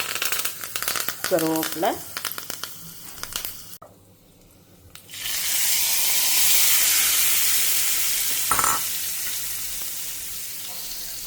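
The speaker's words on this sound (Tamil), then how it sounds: "கடுகும் ஜீரகமும் பொரியட்டும்" Mustard seeds and cumin crackle and sizzle in hot oil as a steady loud hiss that swells after a short pause, with someone speaking before it starts.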